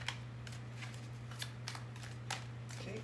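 Tarot cards riffle and slide in repeated quick bursts over a low steady hum, soft and close.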